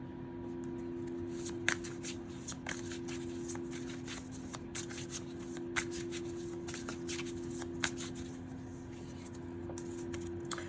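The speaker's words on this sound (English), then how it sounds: "so I pulled 2 cards" Tarot cards being shuffled and pulled for a reading, a soft continuous riffling and flicking close by with occasional sharper snaps, over a low steady hum, no talk.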